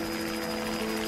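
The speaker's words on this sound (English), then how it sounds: "Her prayers are answered when she hears a helicopter." A helicopter drones with steady rotor thrum and engine whine, a continuous mid-distance hum that holds at even loudness for about a second, with no voices.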